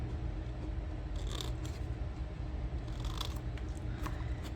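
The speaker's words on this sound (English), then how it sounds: "So I just quick cut those corners out." Scissors snipping the corners off paper for a handmade mini album, several quick close crisp cuts in two small clusters over a steady background hum, no talking.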